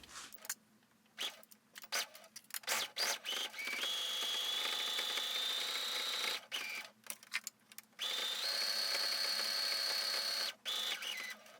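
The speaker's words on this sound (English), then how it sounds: "Now we're going to take this to our sewing machine and we're going to stitch in 1/2 inch seam allowance along this edge here" A sewing machine stitches a seam on a yellow wool coat in two long, steady whirring runs, separated by short starts, stops and handling clatter. The sound is close and clear, with no speech.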